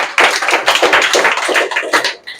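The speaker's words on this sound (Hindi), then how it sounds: "ताली मारो इसके लिए" A classroom of students clapping their hands together, a dense burst of close, loud claps that carries on for a couple of seconds and then thins out.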